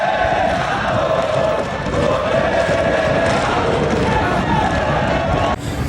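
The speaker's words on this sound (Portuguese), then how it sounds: "a torcida trezeiana se fez presente na Arena das Dunas," Football supporters sing loudly and steadily in a stadium, the Arena das Dunas, a dense, continuous crowd roar that lasts throughout with no break.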